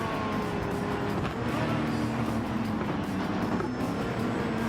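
Mazda 787B race car in Gran Turismo 7, its engine a steady, loud broadband roar holding without a break for the whole stretch, with no voices over it.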